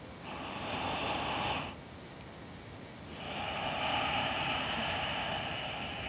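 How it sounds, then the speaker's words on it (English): Ujjayi yoga breathing through the nose with a constricted throat makes two long, soft, hissing breaths, separated by a short quiet pause, close and alone. "breathing in through the nose and out through the nose, constricting the back of the throat. This is that ujjayi breathing"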